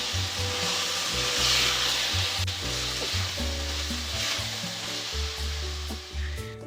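Mixed vegetables (peas, carrots, capsicum and fenugreek) sizzle steadily in a pan while being stirred with scraping strokes, with tonal background music running underneath.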